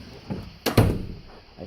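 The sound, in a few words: door slamming in a church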